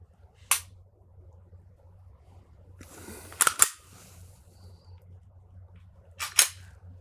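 A pistol being dry-fired during shooting training, with sharp, crisp mechanical clicks: one near the start, a quick pair in the middle and another near the end. Each stands out clearly against quiet background hum.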